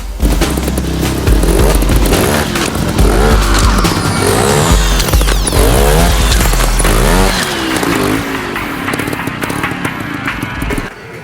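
A trial motorcycle engine revs hard and close, rising and falling in repeated bursts with loud blipping throttle and a rough, loud rumble throughout.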